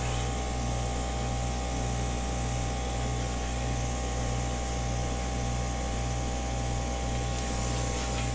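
An airbrush sprays paint in a steady, close hiss that runs unbroken over a low, pulsing mechanical hum, with no voices.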